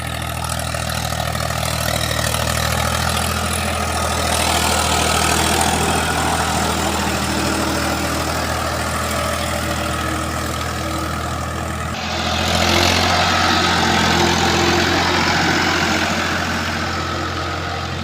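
A fully restored Ford 3600 diesel tractor engine idles and runs steadily with a deep low rumble, loud and close, with a slight shift in tone partway through.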